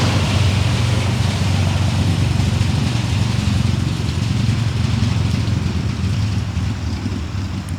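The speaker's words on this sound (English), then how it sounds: "let this motorbike go by." A motorbike passes nearby, its loud, rumbling engine droning steadily throughout and easing slightly toward the end, with no talking.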